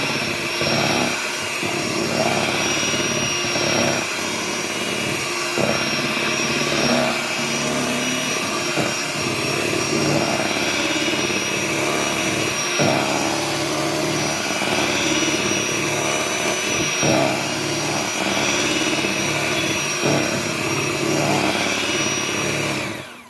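A mixer beats pumpkin cake batter with a continuous, even motor whir that runs loud and unbroken for over twenty seconds.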